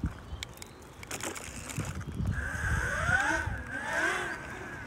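A homemade electric skateboard rolls along outdoors, a steady low rumble of wheels on pavement with a rising whine from the electric motor as it speeds up, continuous and fairly close.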